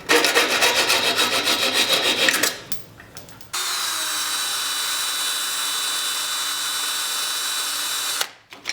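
Thin reclaimed sawmill steel cut by hand for a knife blade, a rapid rhythmic rasping of saw strokes, then a pause and a long steady grinding tone, loud and close.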